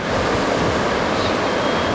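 Ocean surf breaking at a surf beach on a long swell with waves around 1.5 metres, a loud continuous wash of crashing water mixed with wind noise throughout.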